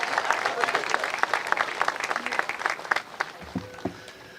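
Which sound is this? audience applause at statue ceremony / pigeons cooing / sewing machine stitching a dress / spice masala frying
audience applause at statue ceremony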